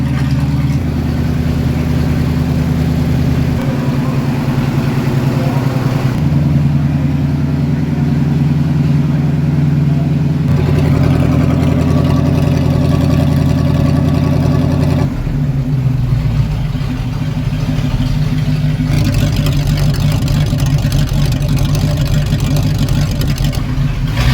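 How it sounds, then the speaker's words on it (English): An old flathead engine in a Steiger tractor idles and runs steadily close by, a low rumbling drone that shifts in pitch and intensity a few times. "Never had a running flathead before, that sounds neat."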